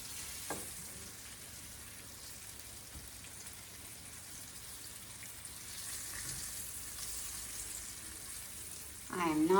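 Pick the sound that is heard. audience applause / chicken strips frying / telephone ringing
chicken strips frying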